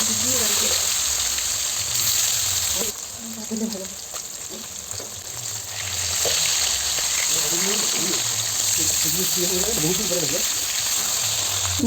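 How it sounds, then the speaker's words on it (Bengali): Fish frying in mustard oil in a wok, a loud, continuous sizzle close by that dips briefly in the middle, with a voice talking over it. "এবার মাছগুলোকে একটু লাল লাল করে ভেজে নেব।"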